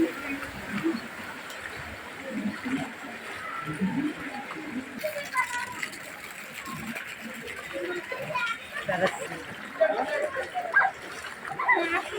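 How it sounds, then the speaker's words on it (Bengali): Water splashes and sloshes through flooded lanes in Dhaka's Shantibagh after heavy rain, with irregular near splashes under frequent talk and children's voices. "আজকে প্রচুর পরিমাণে বৃষ্টি হচ্ছে"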